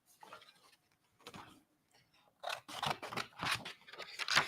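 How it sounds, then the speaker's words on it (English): Scissors cut out paper in a series of close, crisp snips, a few sparse cuts at first and then a quicker run of louder chops. "Let's cut this out"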